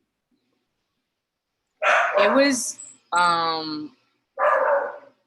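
A dog barks in the background of a remote interview with a professional basketball player. A few barks overlap and mix with a person talking.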